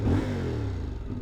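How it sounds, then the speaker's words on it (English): CFMOTO Ibex 450 adventure motorcycle engine revving as it accelerates uphill, a close mid-pitched drone whose tone sweeps downward as the rider shifts or rolls off. "let's test out the handling, the acceleration, the engine sound, get the feel of the bike"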